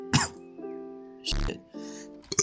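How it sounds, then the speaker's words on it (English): A person with a cough lets out a few harsh, throaty coughs and throat-clearing bursts, close and fairly loud, with short voiced gaps between them. "I have a cough right now, so bear with me if I sound a little weird."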